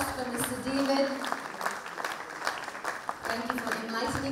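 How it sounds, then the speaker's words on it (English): Audience applause at a business talk on sales and digital transformation, scattered clapping from a seated crowd with voices mixed in, rising and thinning over a few seconds. "Can we have, yes, a big, big round of applause for Mr. David"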